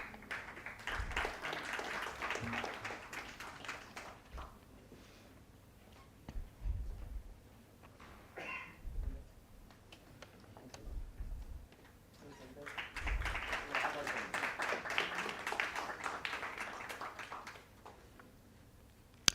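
Audience clapping at the listing ceremony of Divine Hira Jewellers Limited: a sustained round of applause, then a lull with scattered low thumps and voices, then a second long burst of clapping.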